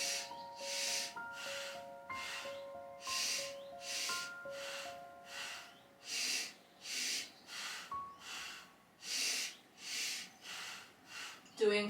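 Deep, rhythmic breathing during a guided chakra meditation, slow inhales and exhales alternating about every second, heard over soft background music with chime-like tones.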